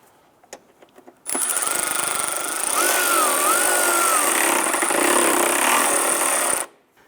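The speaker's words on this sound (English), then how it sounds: "I'm going to install our rear inner cowl bolt" Power tool tightening the rear inner cowl bolt on a 2011-2019 Ford Fiesta during a strut and spring replacement: a loud steady whirring burst of about five seconds, after a few faint clicks and before quiet.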